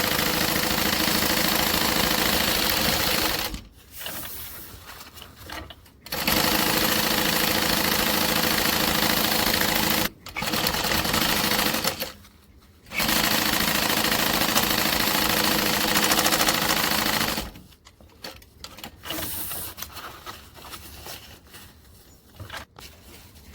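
A sewing machine runs in long steady stretches as it stitches all the way around a garment, loud and close, with brief pauses between bursts of stitching.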